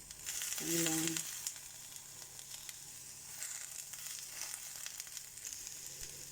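Garlic frying in a pan sizzles softly and steadily, with a brief tonal squeak or whine early on, then a low continuous hiss with faint crackles.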